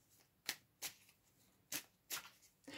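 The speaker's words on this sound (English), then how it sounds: "And I'm gonna pull a couple more advice cards here." Advice cards are drawn from a deck during a tarot-style reading, giving five crisp, separate card flicks and snaps in about three seconds, close and fairly loud with no talking.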